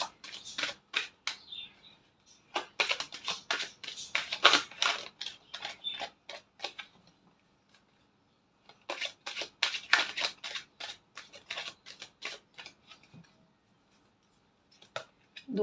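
Tarot cards being shuffled by hand, repeated crisp riffling and flicking in two long clusters separated by a short pause, close and fairly quiet with no talking.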